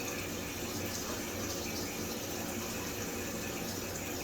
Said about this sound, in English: it's not filling super fast, but we have real good water pressure in the shower